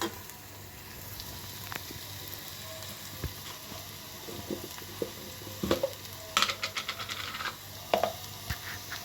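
Chopped onion frying in oil in a pan, turning slightly reddish and translucent, with a soft continuous sizzle and occasional scrapes and clicks of a stirring spoon that grow busier toward the end.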